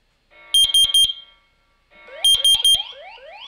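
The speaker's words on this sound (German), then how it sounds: "Wie ihr seht, der Alarm ist angegangen." A phone alarm set off by a Home Assistant automation sounds two loud bursts of three sharp beeps each, the second burst trailed by rising chirping tones.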